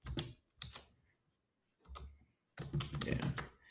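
Keystrokes on a computer keyboard come in short clusters separated by brief pauses, then a longer run of rapid typing, close and fairly quiet with no talk.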